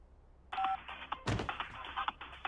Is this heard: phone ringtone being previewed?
yes